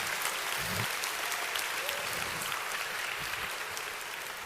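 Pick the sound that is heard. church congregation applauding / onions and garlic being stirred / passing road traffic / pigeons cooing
church congregation applauding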